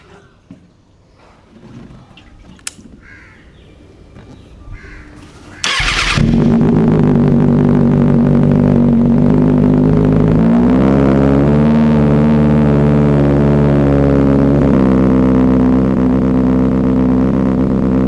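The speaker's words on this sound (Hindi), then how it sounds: "वावरी आ गई है हमारी ZX6R की एरो रेस प्रो टाइटेनियम। इसकी साउंड सुनो।" A Kawasaki ZX6R fitted with an Arrow Race Pro titanium exhaust starts with a sudden bark after some faint clicks, then idles loudly and steadily close by, with a slight rise in revs partway through.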